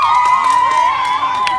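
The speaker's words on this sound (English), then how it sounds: "Kids, give us a cheer." Children in an audience cheer and shout together, a bright, noisy wash of high voices that stays loud and steady throughout.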